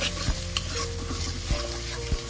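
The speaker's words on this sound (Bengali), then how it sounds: "মরিচের গুঁড়াটা আমি দিয়ে এখন নেড়ে দিতেছি" Beef cooking with chili powder being stirred in, a constant sizzle punctuated by three sharp spatula scrapes against the pot, close up and without speech.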